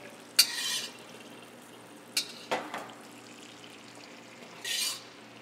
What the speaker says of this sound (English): So we have that simmering butter and our hot asparagus.